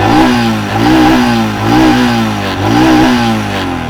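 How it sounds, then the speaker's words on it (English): A 2018 Royal Enfield Himalayan BS4 fuel-injected motorcycle revved hard into its top range, three loud close blips rising and falling in pitch, its thumping exhaust alone without voices. "And this is how it revs in its top range."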